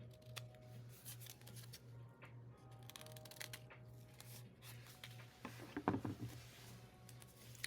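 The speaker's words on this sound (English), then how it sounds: "You're going to trim the lace that's hanging over." Scissors snip quietly through lace trimmed for a vintage botanical pocket tag, a few faint close cuts against a low steady hum, with a cluster of crisper snips near the end.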